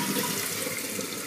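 A toilet flushing after a new Fluidmaster fill valve and flapper were installed, a steady loud rush of water close by with no break.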